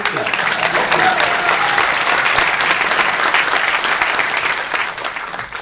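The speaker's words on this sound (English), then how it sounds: "you can clap" An audience applauds at an Intel technology event in Penang, Malaysia, with loud, dense clapping that holds steady, while a voice speaks briefly over it near the start.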